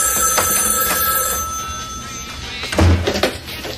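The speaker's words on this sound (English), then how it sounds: "Answer your phone." Telephone bell ringing amid a dense, dramatic soundtrack from a 1993 audio drama, the rings repeating at a steady pace under music and effects, with a heavier low thump near the end.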